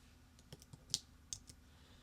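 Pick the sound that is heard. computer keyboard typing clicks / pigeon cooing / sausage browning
computer keyboard typing clicks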